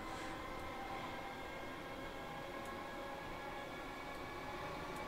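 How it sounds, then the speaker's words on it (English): Steady low rumbling hum of a Class 313/2 electric train's motors in a train simulator game, with a faint hiss, running continuously at an even level with no talking. "the sound of train motors"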